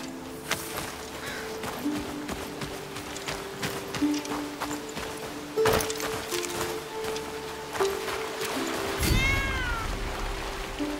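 A cat meows a few times in Blacktail, short clear calls over game ambience with steady background tones and soft footstep-like thuds.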